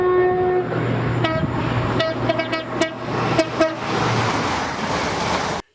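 A train horn sounds in several short toots, loud and fairly close, over a steady rumbling engine and rolling wheels.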